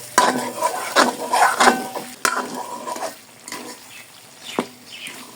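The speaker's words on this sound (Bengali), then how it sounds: "আমি অল্প অল্প আঁচ দিয়ে মাংসগুলো 15 মিনিটের মতো কষিয়ে নিব।" Chicken pieces for haleem sauté in a pan while a spoon scrapes and stirs them, giving bursts of sizzling and metallic clatter in uneven strokes, close by, with quieter gaps between.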